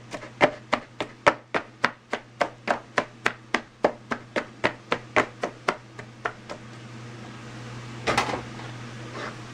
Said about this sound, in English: I like to give them a good chopping.